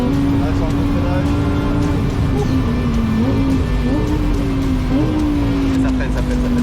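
A Lamborghini on a race track brakes hard, its engine note holding a strong droning pitch that dips and climbs in short steps, with a voice talking over the car throughout.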